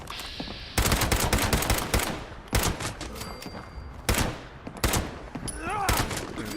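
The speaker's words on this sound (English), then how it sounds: "He's shooting at me, and I realized I gotta get out the big guns" Loud, close gunfire from heavy weapons in the video game Fallout 76 comes as rapid bursts of shots separated by short gaps, with metallic mechanical sounds between volleys.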